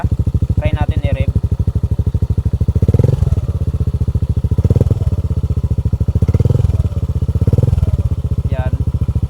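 Motorcycle fitted with a JVT pipe v3 exhaust, its engine idling with a steady, close, loud putter, then revved in several short bursts that swell and drop back to idle.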